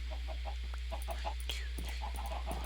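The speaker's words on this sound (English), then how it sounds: "Oh, lots of chicken." Chickens cluck repeatedly in Minecraft Bedrock survival play, a busy series of short, rhythmic clucks from several birds at close range over a steady low hum.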